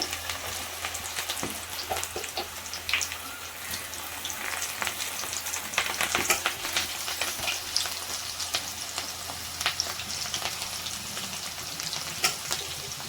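Cashew and amaranth pakodi bubble and crackle in oil on medium heat, a continuous close sizzle with frequent sharp pops and spatters.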